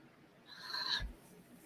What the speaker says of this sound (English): that is my cat Thomas